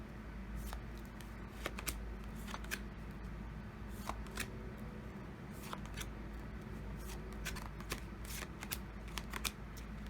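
Oracle cards riffle-shuffled by hand, a run of crisp papery flutters and taps repeating in quick bursts over about ten seconds, close and moderately quiet over a low steady hum.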